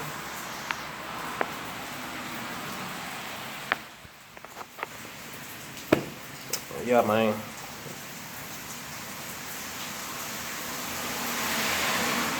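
Steady rain hisses continuously outdoors, with someone speaking briefly and a few scattered clicks and thumps over the wash.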